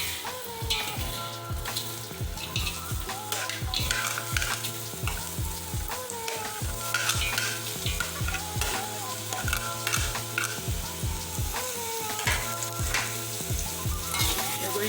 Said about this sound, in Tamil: going to fry the onions till it becomes golden brown.